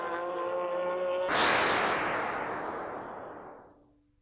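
A sports prototype racing at the Nurburgring locks its wheels in a harsh, loud tire skid that bursts in over a droning engine note, then fades away slowly over several seconds.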